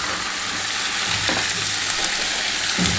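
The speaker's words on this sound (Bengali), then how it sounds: "চিকেনটা ঢেলে দিচ্ছি। এবার গ্যাসটা জোর করে দিলাম।" Chicken pieces marinated in vinegar fry in a pan over a high gas flame, giving a steady close sizzle with light stirring scrapes throughout, no voices.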